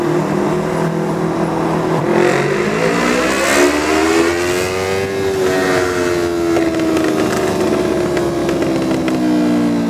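A Kawasaki Vulcan motorcycle engine revs loudly and steadily nearby, its droning pitch rising and falling in a slow arc before settling into a sustained hum, with no talking.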